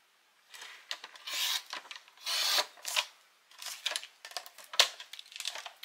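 Paper is cut for a craft album page in several short rasping bursts, close and fairly crisp, separated by brief gaps. No one speaks.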